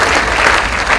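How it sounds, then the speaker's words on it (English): A short burst of dense audience applause at the 2015 Colonel Choice Awards ceremony, many hands clapping loudly and continuously from a crowd. "Stand up and we'll give you an applause."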